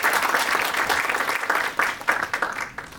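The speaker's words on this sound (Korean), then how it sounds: "큰 박수로 맞이해주십시오." Applause from attendees at a formal ceremony welcoming an introduced dignitary, a few seconds of steady clapping that thins into scattered individual claps at the end.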